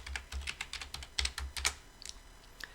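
Typing on a computer keyboard while writing HTML form label tags, a quick uneven run of close, light key clicks with short pauses, no talking.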